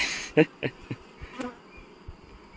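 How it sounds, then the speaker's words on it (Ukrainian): Honeybees and imported drones buzz steadily around a comb frame at an apiary, with several louder close passes of individual insects over the hum. "покажіть йому, які у нас тут дуже файні трутні. Імпортні."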